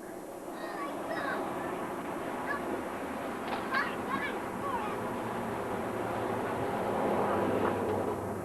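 Ducks honk again and again outdoors, a loose run of calls over steady background noise, with people talking nearby.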